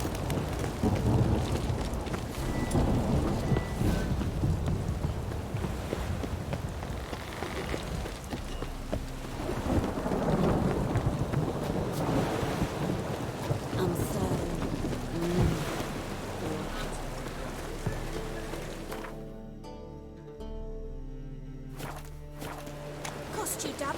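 Steady rain pours in The Witcher 3 video game, with a dense hiss throughout, crunchy footsteps and faint thunder, before it thins out near the end.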